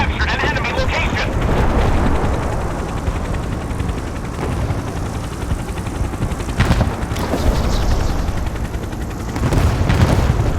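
Warship guns fire in the naval battle game Force of Warships: dense, booming cannon and rapid gunfire blasts over a constant rumbling battle din, with game voice callouts mixed in.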